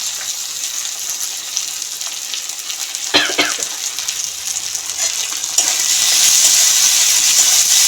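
Tomatoes tipped into a pan of frying potato bhaji, giving a loud continuous sizzle with a brief sharp clatter in the middle and the frying growing stronger toward the end.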